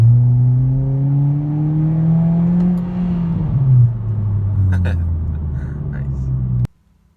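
A 2020 Hyundai Veloster 2.0 accelerating hard, engine drone rising steadily in pitch through a gear change, loud and close from inside the car, cutting off abruptly at the end.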